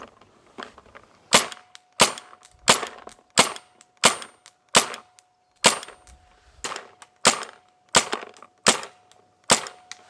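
Spyder MR6 paintball marker firing a string of sharp, crisp pops at a fairly even pace, about a dozen shots, close and loud with quiet gaps between them.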